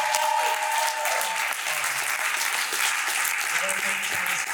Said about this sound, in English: So give Toya a applause.